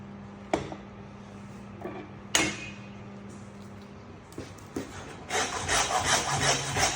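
A butcher cuts a T-bone steak from a side of beef, with sharp knocks against the block, scraping rubs, and a quick rhythmic sawing through bone near the end, close by.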